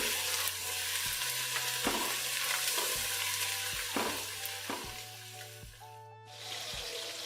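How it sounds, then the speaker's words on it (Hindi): Onions frying in a pan with two tablespoons of ginger garlic paste for beef yakhni pulao: a steady loud sizzle with repeated stirring scrapes and a low electric hum beneath. "प्याज के साथ फ्राई करेंगे"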